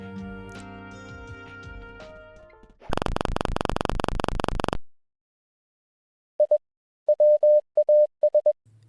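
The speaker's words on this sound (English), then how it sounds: "We can hear Morse code, which translates to this." Short electronic Morse code beeps inside a Roblox game, a series of clean single-pitch tones in irregular dots and dashes after a burst of loud buzzing and some musical sound, with silent gaps between groups.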